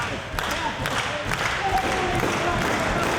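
Wrestling crowd at a Ring of Honor show cheering on the wrestler Homicide, a loud continuous roar of voices with scattered claps and thumps from the ring.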